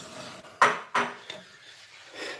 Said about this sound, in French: j'ai déjà commencé à faire la vaisselle